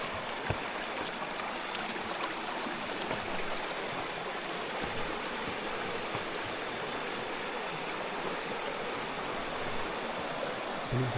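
Clear river in Baduy land flowing steadily, a continuous broadband rush of water heard close by with no voices.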